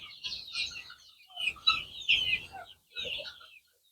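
Young chickens about six weeks old chirp on a school poultry farm, a cluster of high peeping calls in several bursts, fairly close, with faint low rumble beneath.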